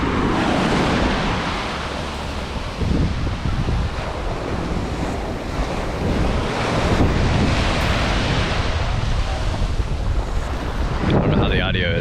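Ocean waves rolling onto a beach in Cozumel, a loud continuous wash of surf buffeted by heavy wind noise on the microphone, with faint voices near the end.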